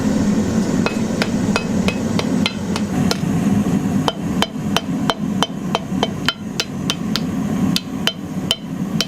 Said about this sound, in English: Fine-tune by hitting with the hammer.